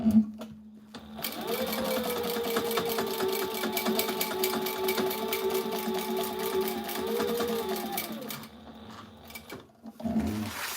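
A sewing machine stitches tactical gear in one sustained run of fast, even mechanical whirring lasting several seconds, with the motor pitch rising at the start and dropping near the end, close and alone.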